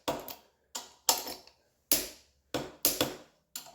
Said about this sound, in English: we finish off getting the old prop torque wrench out